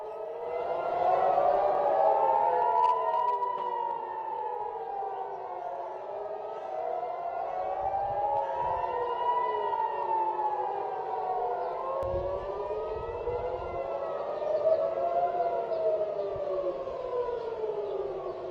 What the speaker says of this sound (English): are hearing sirens over Tel Aviv in Israel again